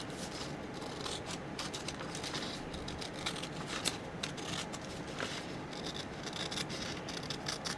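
Big scissors slice through a paper junk mail envelope in a quiet room, a continuous soft crisp snipping and rasping close to the mic with no talking.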